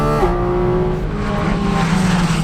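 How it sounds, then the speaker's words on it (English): A 2023 Porsche 718 Cayman GT4 RS engine howls at Phillip Island circuit, loud and close, its pitch dropping sharply at the start then settling and rising again as the car drives on, with no voices. "So let's talk about the engine, because we've started with that, and as you can hear, it kind of dominates proceedings a bit."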